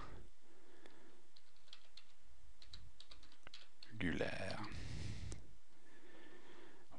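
Keys tapped on a computer keyboard while entering a plant description into a wiki page, soft scattered keystrokes in a quiet room, with a louder burst of rustling or breath midway.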